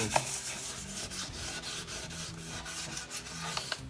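Wet sanding the finish on a black walnut electric guitar body, a steady close scraping rub with uneven strokes and a couple of sharper ticks, heard alone with no voices.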